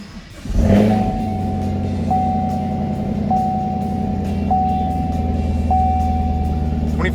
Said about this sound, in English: So I'll go ahead and fire it up.